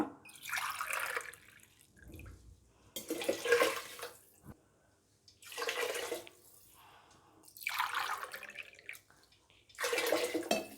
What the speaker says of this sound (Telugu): ఇప్పుడు నేను దీంట్లో 4 గ్లాస్ వాటర్ యాడ్ చేసుకుంటున్నా